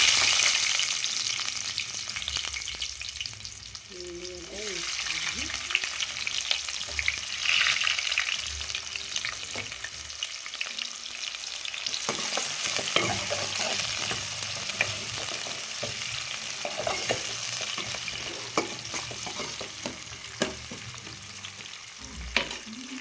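Cumin seeds, cloves and onion sizzle and fry in a hot pan, a steady close crackle running throughout with scattered spoon scrapes and stirring clatter, and no talking.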